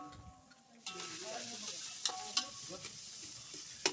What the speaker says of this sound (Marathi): त्याने पापड फ्राय चालू आहे